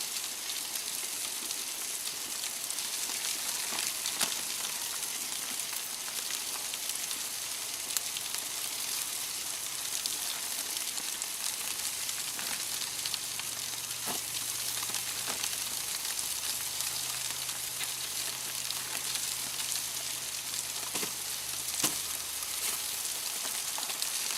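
Food sizzles steadily on an off-grid camping grill, a constant bright hiss with small crackles and pops, fairly close, with a low hum in the background and no talking.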